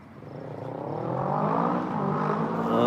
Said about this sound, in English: Loud motorcycle behind me at the corner of the building.